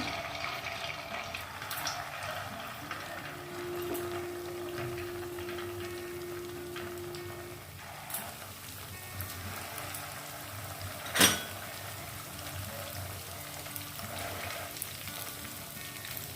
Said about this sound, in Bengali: এই যে ডিম, ছানার ডিম তেলে ছেড়ে দিলাম